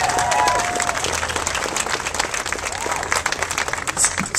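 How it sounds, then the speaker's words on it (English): A crowd at a Sacramento Steps Forward launch event applauds for Scott Crocker, a dense, fairly loud burst of clapping that carries on for a few seconds with faint voices underneath. "Let's give Scott Crocker a round of"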